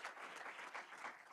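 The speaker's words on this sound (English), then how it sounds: "I just want to give one more round of applause for all our speakers this morning" Workshop audience applauding the speakers at an urban forestry event, a dense wash of clapping from a crowd, steady and moderately loud across the whole moment.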